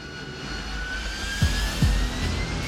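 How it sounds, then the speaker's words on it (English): A Harrier jet engine runs up to full power for a short deck takeoff, a loud steady roar with a rising whine and a couple of low thumps. "It takes every bit of power that the engine has to get off the deck."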